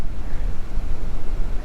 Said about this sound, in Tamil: சரியான காற்று அடிக்குது இந்த பக்கம்